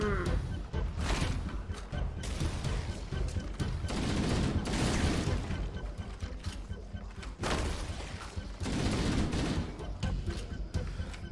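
Dense bursts of rapid gunfire from the first-person shooter Halo: Combat Evolved Anniversary, loud and sustained across the clip with overlapping game effects and a voice briefly heard.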